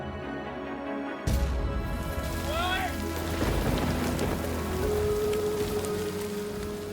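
Heavy tropical rain pours steadily across the whole stretch, a dense hiss of drops after a sudden start, with some faint distant rumbles and background sounds mixed in.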